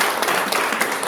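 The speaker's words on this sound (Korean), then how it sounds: "힘차게 박수하고 감사드리겠습니다." A church congregation claps vigorously in a steady, dense wash of applause, close and continuous throughout.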